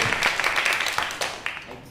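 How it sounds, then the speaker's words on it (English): Audience applause for an improv volunteer at a comedy show, a short burst of dense clapping that starts loud and thins with scattered claps as it fades. "Round of applause for Gavin right here"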